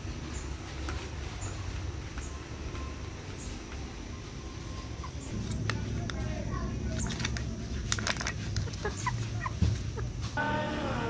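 Three-month-old free-range village chickens cluck near their coop on a small farm, soft scattered calls over a steady low background murmur, with some faint chirps and rustles throughout.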